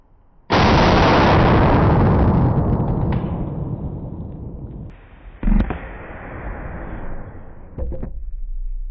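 A 12 gauge shotgun fires a bolo round at a skillet: one sharp, loud blast with a long rumbling tail, then a clank of impact and further rattling thumps as the noise fades.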